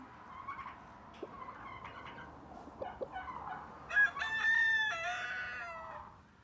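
A rooster crows loudly and close by, a long harmonic call rising then trailing off, after some quieter clucking and background noise.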